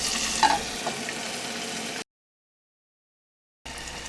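Lamb chops sizzle in a covered cast iron pan over low heat, giving a steady, faint frying hiss with light crackles that breaks off into silence partway through and then resumes.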